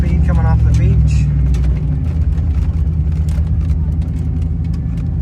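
A Ford Bronco drives off the sand of a beach gathering with some speed, its engine a loud, steady rumble up close, with a person talking over it at the start.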